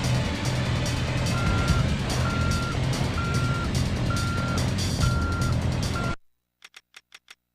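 Forklift reversing beeps in an open-world video game: a steady series of evenly spaced electronic beeps over a loud engine rumble, which cuts out abruptly and gives way to a few sharp clicks in near silence.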